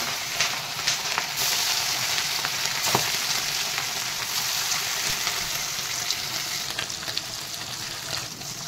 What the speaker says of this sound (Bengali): চেলা মাছটা নুন হলুদ মাখানো হয়ে গেছে। এবার আমি ভাজতে যাব। তেল আমার পুরো একদম গরম হয়ে গেছে।